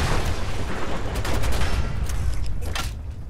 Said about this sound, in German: Boah, warum ist der gerade so explodiert?